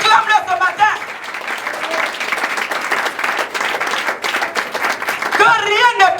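A church congregation at a Sunday service applauds Jesus in loud, sustained clapping from a crowd, steady and dense throughout, with voices calling out over the applause near the start and end.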